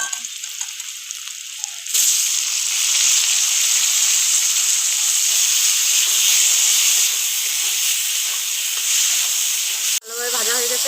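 Chopped tomato hitting browned fried onions in a hot pan, a quiet background suddenly giving way to a loud, steady hiss of sizzling that holds for about eight seconds before an abrupt clatter near the end.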